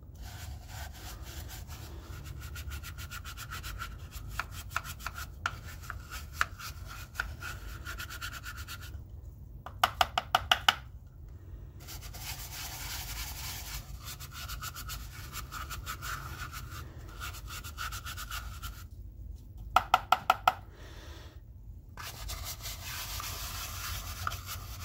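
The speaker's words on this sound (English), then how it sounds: "I use a paintbrush that I cut the bristles off most of the way to kind of clean that up" A paintbrush with its bristles cut short scrapes caked sparkler composition out of a container in repeated rapid rubbing strokes, steady and close, broken by brief pauses and a few sharp clicks.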